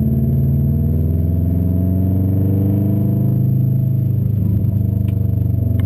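A loud, steady engine of a 2002 Subaru WRX Wagon drones and rises slightly in pitch as it drives in snow, with faint rattles over the constant rumble.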